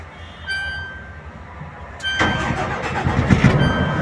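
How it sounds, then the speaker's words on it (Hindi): A Zoomlion ZTC1100R6 truck crane engine cranks and fires after a quiet stretch with a faint whine, then settles into a loud, rough, steady idle. "अब हम गाड़ी चालू कर सकते हैं।"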